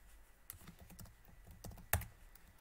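Computer keyboard typing close by, a quick run of light key clicks ending with a sharper, heavier keystroke.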